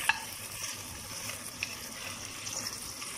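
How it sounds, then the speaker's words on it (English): Raw chicken sautés quickly in a pan for homemade stock, giving a steady, moderate sizzle with occasional faint stirring clicks and no talking. "So just saute it quickly."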